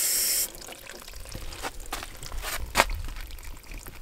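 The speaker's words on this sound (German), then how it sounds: "Okay, Wasser läuft schon mal." Water runs from a tap, a brief hiss at first, then splashing and trickling with a few sharper clinks and drips.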